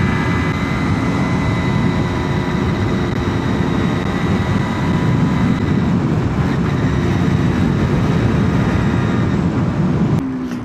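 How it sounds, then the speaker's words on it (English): A train rumbles past near a railway crossing in the Australian countryside, a steady loud drone that holds level for the whole stretch before easing off at the very end. "train that passed us back there, I'm pretty sure has just caught up to us here"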